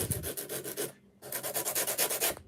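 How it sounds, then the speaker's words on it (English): Fine emery board rubbed over a textured painted surface to smooth it, giving quick rhythmic scratchy strokes up close, a short pause, then another run of steady rasping strokes with no talk. "using a fine emery board. And I'm just going to take it down and smooth it down a little bit"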